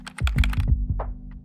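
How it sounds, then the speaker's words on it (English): Rapid keyboard typing on a computer during a video-editing tutorial, a quick burst of close, crisp key clicks followed by a few scattered taps, with no talking. "type Blur in the search box"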